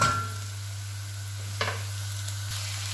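Minced meat sizzles steadily in a pan at 220 degrees over golden soffritto. A utensil gives a few soft scrapes as it stirs, and there is no talking.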